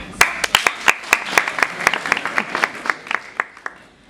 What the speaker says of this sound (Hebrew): אפשר כפיים.